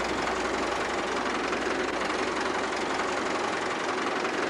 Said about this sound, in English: I'll let the Massey get warmed up.